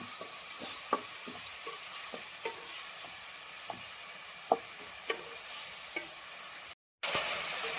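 Soft sizzling in a pan with intermittent scraping clicks of a spatula stirring a thick paste, steady and close, with a brief gap near the end.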